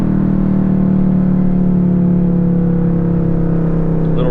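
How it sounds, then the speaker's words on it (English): A Mustang Mach 1 with catless long-tube headers drones loudly and close from inside the car during a rev match, its deep engine note holding steady and sagging slightly in pitch. No one talks. "Little rev match right here"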